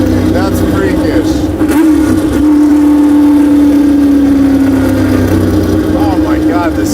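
A Shelby GT350 drives through canyon roads, its engine droning loud and close with a rising and falling whine, while people talk excitedly over it.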